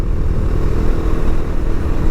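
A Bajaj Dominar 400 motorcycle engine rumbles up close, a steady, heavy low-pitched chug with a slight clattering texture and no pauses.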